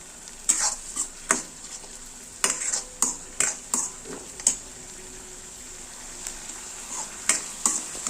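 Coriander paste sizzles softly in a pan while a spoon repeatedly scrapes and knocks against the metal in irregular bursts, close up and without talk.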